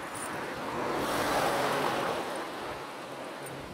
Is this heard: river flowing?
yes